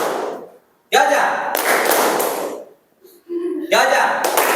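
A group of people claps together in a rhythmic spirit-clap chant during a classroom session, bursts of loud collective clapping separated by short pauses, with voices chanting along.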